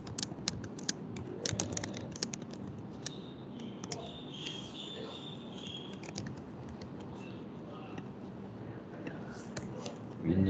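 Rapid, irregular keystrokes on a computer keyboard while notes are taken, fairly close and light, with faint background murmur.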